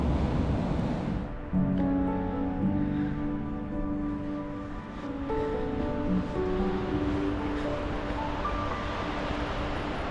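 Ocean surf at Cape Otway on the coast washes in a steady, loud roar with a gusty wind rumble, and faint tonal hums drift over it.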